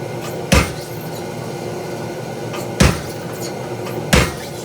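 Three heavy metallic strikes of a hammer forging metal on an anvil while shaping a blacksmith's hammer pendant, spaced irregularly and ringing briefly over a low workshop hum.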